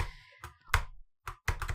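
Computer keyboard keys clack in a few sharp, separate taps and short bursts during Minecraft parkour play, close and dry with brief silences between presses.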